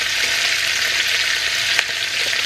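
Carrot pieces drop into vegetables frying for pancit, a steady close sizzle with faint stirring scrapes and one brief sharp tick.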